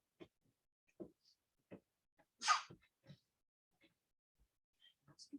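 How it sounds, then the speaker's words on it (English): A single sharp sneeze bursts out amid quiet, scattered breaths and soft mouth noises, close and otherwise hushed. "Must be something in this acrylic paint keeps making me sneeze."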